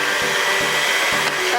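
An electric hand mixer whirring steadily through scone dough in a home kitchen, a close, continuous motor hum with faint periodic thumps as the beaters move, and no talking.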